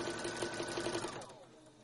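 A sewing machine stitches piping onto a pillow top in a fast, even mechanical chatter, close and clear, easing off and slowing toward the end.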